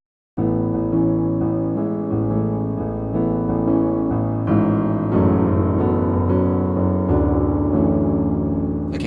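Solo piano playing a song, a steady flowing melody over repeated chords that starts after a brief silence and continues evenly, alone and fairly loud.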